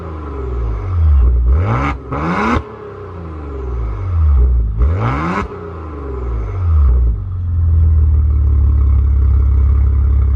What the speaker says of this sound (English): So let's take a listen to this twin turbo V6.